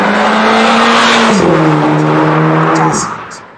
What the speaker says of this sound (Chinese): 驾驶的声音